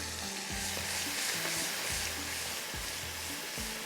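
Ginger garlic paste and salt frying in masala for a mutton dish, a constant loud sizzle broken by a regular rhythm of spoon scrapes and knocks against the pan as the mixture is stirred.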